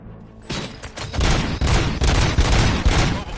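Dense bursts of rapid gunfire with booming impacts in a RoboCop video game pile up into a loud, chaotic barrage that continues without pause.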